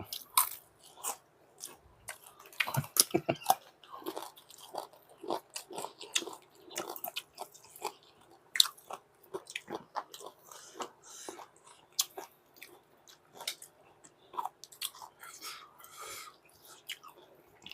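Close, quiet chewing of crunchy fried pork with chewy cartilage, with irregular bites and crunches repeating throughout and soft mouth noises between them.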